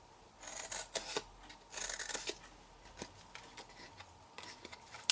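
Scissors snip into squares of material for a fold-up owl bag, a series of quiet, close, crisp cutting strokes in an irregular rhythm with no talking.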